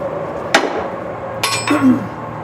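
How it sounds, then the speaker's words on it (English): A small hammer taps another hammer's metal head in a few sharp strikes, one ringing briefly after the last hit, with a steady low hum underneath. "Always tap it with another hammer, preferably smaller hammer."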